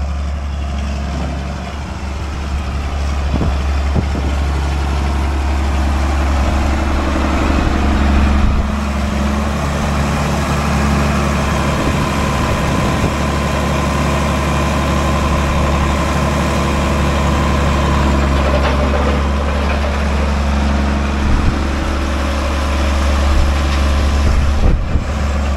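A heavy diesel tractor engine idles steadily and loudly nearby on a farm, a constant low rumble throughout with no talking.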